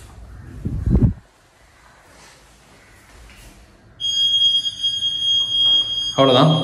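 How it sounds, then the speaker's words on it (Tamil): An AJAX security system alarm siren, triggered by a motion sensor, suddenly starts sounding, a steady high-pitched multi-tone wail that continues loudly, after a brief burst of talk and a quiet stretch. "இப்போ மோஷன் டிடெக்ட் ஆகிட்டு நமக்கு அலாரம் அடிக்குது."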